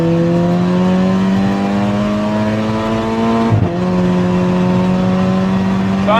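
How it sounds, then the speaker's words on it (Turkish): A Stage 4 tuned Volkswagen Golf MK6 GTI accelerates hard from inside the cabin, its engine note rising loudly and steadily, with a brief dip at a gear change before climbing again. "Çok ciddi hızlanıyor."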